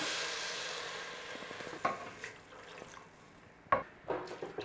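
Vinegar goes into a pan of sautéing onions for a homemade brown sauce, giving a low steady sizzle with a couple of sharp utensil clinks and stirring scrapes, close and fairly quiet.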